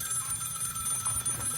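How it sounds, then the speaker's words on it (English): An old wall telephone rings in a Brooklyn, NY home, a continuous rapid bell trill sounding loud and steady for the brief moment, with no voices over it. "That was our phone. And it would ring"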